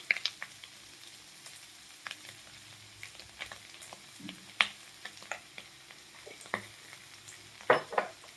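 Potato curry (yellow potato bhaji) being stirred in a pan over medium heat after salt goes in, with a faint low sizzle and scattered sharp spoon clicks against the pan, close and fairly quiet.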